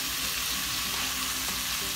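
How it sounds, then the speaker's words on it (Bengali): Boiled octopus sizzling and frying in a pan while being sautéed for a spicy curry, a dense, steady hiss close up with soft stirring underneath and no voices. "যে অক্টোপাসটা কষানো হচ্ছে, এটা বয়েল করে নিয়েছিলাম"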